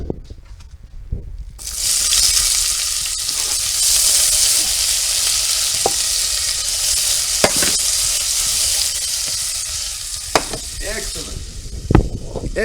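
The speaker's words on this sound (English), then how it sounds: "you ready for the sizzle mic effect?" Onion half sizzling loudly in a hot frying pan, a steady bright frying hiss that bursts in after a quiet start, with occasional stirring clicks and pops throughout.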